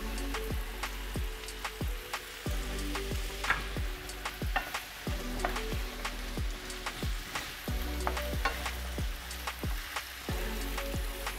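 Onions with a sprig of thyme and crushed allspice berries sauté in a pan, a soft, steady sizzle with frequent small crackles and pops, close and quiet with no voices.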